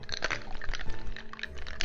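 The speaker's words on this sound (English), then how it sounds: "pour it into our glass with a 1/4 slice of lemon" A chilled Rock and Rye cocktail pours from a shaker into a glass, a close, steady splashing flow with a few soft clinks of ice, with no talk.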